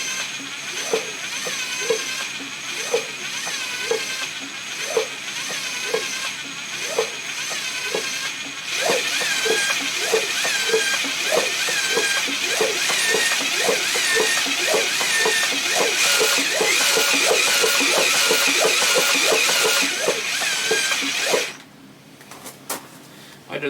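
A Suzuki GN250 motorcycle engine idles steadily with a rhythmic, flapping exhaust pulse, fairly close and loud, then cuts off abruptly near the end.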